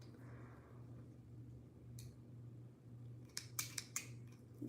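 Scissors snip through crochet yarn: a single snip, then a quick run of four or five close, crisp cuts over a low steady hum in a quiet room.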